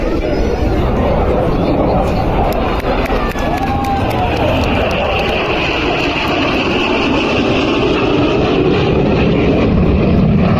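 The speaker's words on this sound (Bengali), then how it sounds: "এগিয়ে আসছে মিগ-29 যুদ্ধ বিমান" A loud, sustained roar of a MiG-29 fighter jet in a flypast overhead at an Independence Day event, filling the air for the whole stretch, with crowd chatter underneath.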